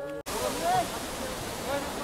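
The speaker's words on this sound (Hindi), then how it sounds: "देखो पीछे ज़बरदस्त झरना दिख रहा, ऊपर से पानी आ रहा काफ़ी ऊपर से" Waterfall pouring from high up beside the Amarnath Yatra trekking route between Chandanwari and Panchtarni, a steady broadband rush of falling water after a brief cut, with a voice speaking over it.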